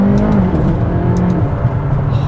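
A McLaren 570S sports car driven fast, its engine giving a steady, loud, close roar with a slight rising whir throughout, and no talk over it.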